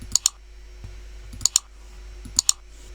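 Crisp computer mouse double-clicks repeat three times in quick pairs, close and distinct against a quiet background hum.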